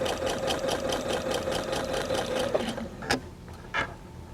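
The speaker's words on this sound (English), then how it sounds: "I'm sewing with a brighter color thread so that you can see" A sewing machine stitches patchwork quilt pieces in bright thread with a fast, even rhythmic chatter. It stops partway through, and a couple of soft clunks follow in the quiet.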